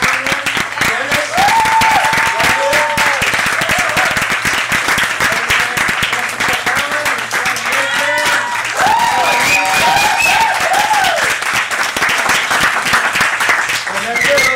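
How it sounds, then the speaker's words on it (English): A Hapkido workshop audience applauds together, a full burst of clapping that holds steady throughout, mixed with scattered cheers and voices talking over it. "give yourselves a round of applause"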